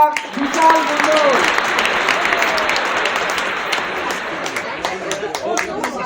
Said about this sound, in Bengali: একটা জোরে হাততালি হয়ে যাক বিশাল মন্ডল